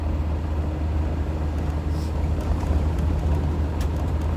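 An old petrol engine in a Peugeot 504 runs steadily, a loud, close, low rumbling drone that holds an even level throughout with no voices.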